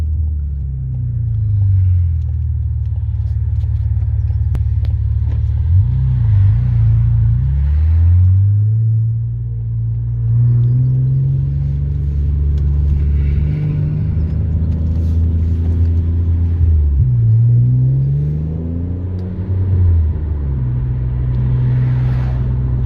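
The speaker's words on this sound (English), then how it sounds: "Some traffic here, unfortunately." Steady road traffic rumble around an Alfa Romeo 147 GTA Selespeed with its Busso V6 on a test drive, low engine drone rising and falling through the gears, loud and continuous with no talk.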